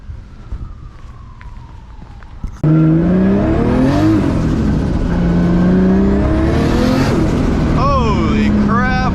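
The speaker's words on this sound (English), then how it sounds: "I forgot how fast this car is." A turbocharged Nissan 240 accelerates hard from quiet, its loud engine note climbing through several gear changes as it pulls away, with faint talk beneath it.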